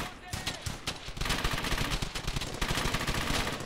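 Sustained machine gun fire in Brothers in Arms: Hell's Highway, rapid rattling bursts that run almost continuously and loud, with a voice talking faintly beneath.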